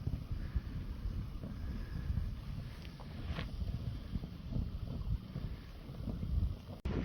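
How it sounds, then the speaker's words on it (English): Strong, gusting wind on a cliffside, rated around 35 km/h with gusts to 46 km/h, roars steadily into the microphone as a dense, continuous buffeting rumble with no speech. "even though it's super windy, the edible fire starter is working."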